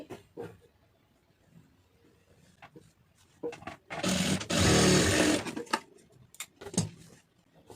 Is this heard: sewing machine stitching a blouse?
yes